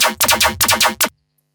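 Choppy laser bass synth from Serum, pulsing in about six rhythmic gated stabs with a sweeping, wobbling tone before cutting off abruptly into silence.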